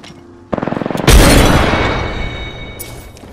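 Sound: grenade explosion in video game Apex Legends

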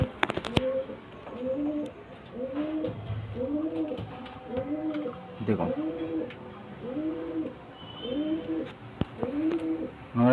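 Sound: Madrasi pigeons cooing

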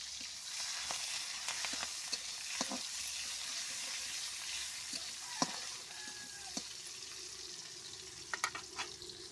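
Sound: onion and green chilli sautéing in a pan

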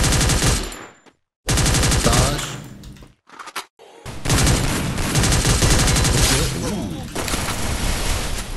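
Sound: weapon gunfire from a video game, tested in training mode

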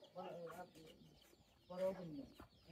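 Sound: native village chickens clucking

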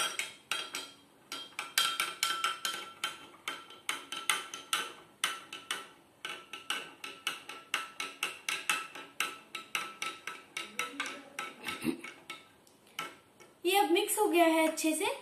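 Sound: stirring salt into a glass of water

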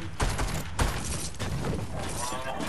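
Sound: gunfire in the video game Fortnite

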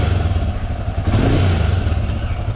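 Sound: Royal Enfield Himalayan motorcycle engine revving with NGK ignition cable

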